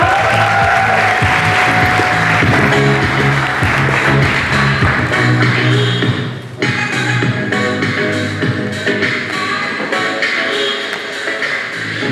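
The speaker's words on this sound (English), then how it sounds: "Let's give them a clap of applause." An audience at a JKUAT Christian Union creative arts event applauds as panelists come on stage, a loud, sustained wash of clapping with some music underneath, dipping briefly midway before continuing.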